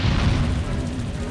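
An anti-aircraft gun is blown apart in Destroy All Humans!, a loud, sustained low booming blast filling the whole short moment, rumbling and heavy without a clear break.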